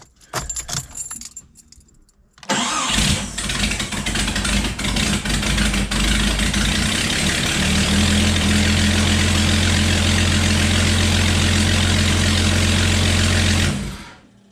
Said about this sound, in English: So that's still a pretty bad exhaust leak.